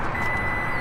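Warning beeps from the power tailgate of a 2024 Toyota Tacoma TRD Offroad pickup, a steady high tone sounding continuously through a short moment over low background rumble.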